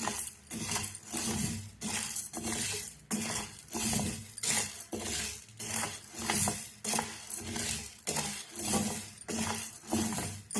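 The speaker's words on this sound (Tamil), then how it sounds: "நல்ல பச்சை வாசனை போக கொஞ்சம் நல்லா வாசம் வரும் அந்த அளவுக்கு வறுத்துக்கலாம்" Black urad dal dry-roasting in a pan while being stirred, with a steady run of scraping, rattling strokes and light clinks against the metal, rising and falling in regular sweeps, close and alone with no talk.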